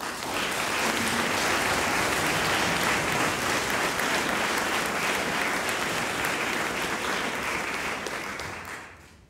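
Sustained audience applause from a courtroom-themed stage show about the trial of Jacques Mesrine, dense and steady clapping throughout that fades out at the very end.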